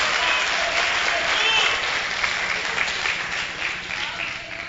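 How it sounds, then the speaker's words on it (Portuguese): A church congregation breaks into sustained applause during a sermon, a loud dense wash of clapping that slowly tapers over nearly five seconds, with faint voices underneath. "Se você puder aplaudir, aplauda"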